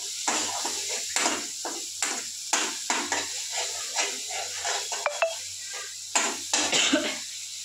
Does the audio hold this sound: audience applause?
no